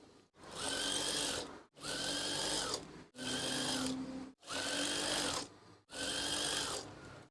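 Sewing machine stitching curtain swag fabric runs in five steady whirring bursts of about a second each, separated by short stops, loud and close.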